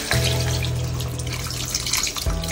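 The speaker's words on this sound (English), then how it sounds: "then we're gonna add a little bit of water." Water runs steadily into a pan of butter chicken sauce with chicken and garlic, a continuous close pour with a low hum, cutting off shortly before the end.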